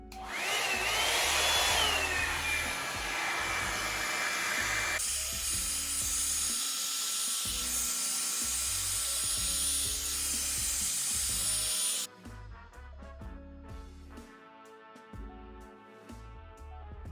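A Revlon One-Step hair dryer runs on its low setting with a steady, high whooshing whine and airy rubbing noises as it is worked through hair, the tone shifting a few times before dropping to a quieter hum near the end.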